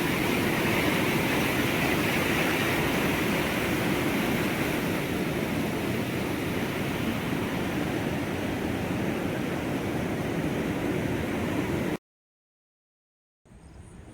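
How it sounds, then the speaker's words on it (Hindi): A swollen river rushing in flood in the hills, a loud, continuous broadband roar of churning water that holds steady before cutting out abruptly near the end. "नदी का रुख तो देखो भाई, इतने उफान पे है ना"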